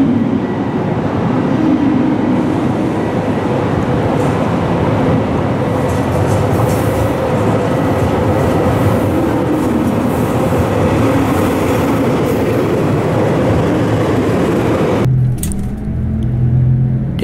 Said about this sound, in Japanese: 列車は旭川駅を出発、